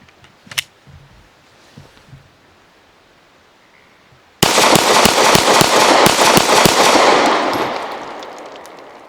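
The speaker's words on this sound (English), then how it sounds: "We'll take it out and shoot it" A Glock 43 pistol with a CruxOrd +2 magazine extension is fired. After a few quiet seconds a loud, close string of rapid shots cracks out and then fades into echoing decay.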